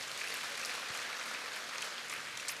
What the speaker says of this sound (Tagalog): Isa pang malakas na palakpak kay Lord